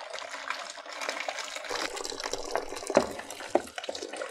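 Water running and trickling through a funnel in a kitchen, a steady moderate splashing flow that continues throughout, with a couple of brief clinks near the end.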